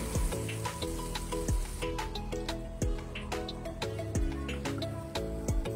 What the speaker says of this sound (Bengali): বাটারের মধ্যে রোলগুলো দিয়ে দিব